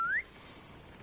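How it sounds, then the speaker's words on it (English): A single rising whistle from a character luring a guard in the stealth game Assassin's Creed Chronicles: China, short and clear at the start, then quiet game ambience. "maybe I can whistle, get the first guy's attention"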